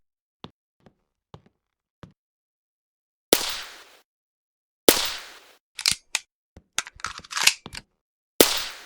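Single shots from an MK11 marksman rifle in a Roblox co-op zombie game, sharp loud cracks spaced slowly apart with a few faint clicks beforehand and some shorter handling noises between shots.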